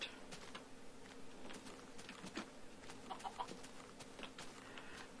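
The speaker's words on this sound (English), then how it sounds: "Now we can capture that chicken." Chicken clucking in the Minecraft video game, faint and scattered over a steady buzzing, insect-like game ambience with no talking.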